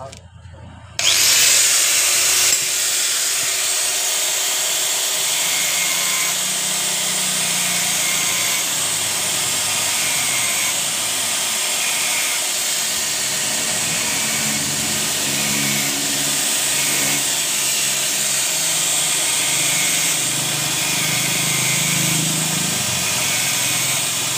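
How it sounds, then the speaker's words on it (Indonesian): A grinder cuts into the clutch lining of a Yamaha NMAX 155 scooter, starting abruptly after a brief quiet and then holding a loud, steady, high whine for the rest of the stretch, with no talk. "Kita akan mengakali di bagian kampasnya ini dengan cara menggerinda atau memotong di bagian kampas gandanya ini."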